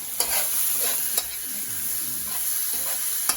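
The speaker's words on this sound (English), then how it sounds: "We'll just pause for a second and give that a stir." A slow-cooked paella-style dish seasoned with black pepper sizzles steadily in a pan on the stovetop, with a few sharp spoon knocks against the pan as it is stirred, close and without talk.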